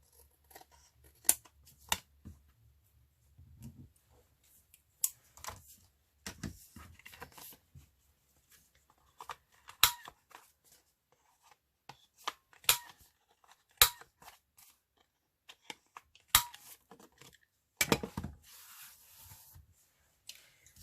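Scissors trim excess washi tape off a paper journal in a close, quiet series of separate snips and rustles. The cuts come at an irregular pace over about twenty seconds, with light paper handling between them.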